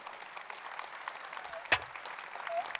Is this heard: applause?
yes